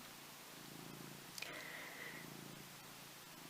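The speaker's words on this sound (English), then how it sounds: "if you can hear purring, by the way, sorry, it's just my cat" A cat purrs softly in its owner's lap, a faint, steady low rumble with one brief rustle partway through.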